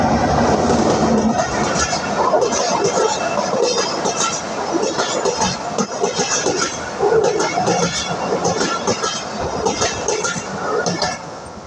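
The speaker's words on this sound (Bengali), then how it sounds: "ওই যে ট্রেন আসতেছে" A train passes nearby on a winter morning in Faridpur, Bangladesh, giving a steady, loud rumble with clattering wheel noise that fills the whole stretch, with faint voices mixed in.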